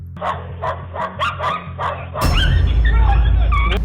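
A dog barks repeatedly in short, loud, rhythmic bursts close by, followed by a louder burst of mixed noise and high yelping sounds.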